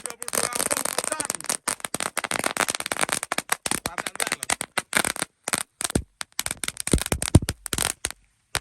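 Firecrackers bursting in a dense, crackling volley at night during Ramadan, sharp loud pops and rapid crackle dense at first, then thinning into scattered separate bangs with short silent gaps.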